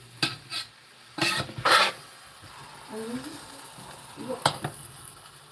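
A hamburger patty sizzles in a pan just after being flipped, with a few sharp scraping and clattering bursts from utensils and the pan over a soft background hiss.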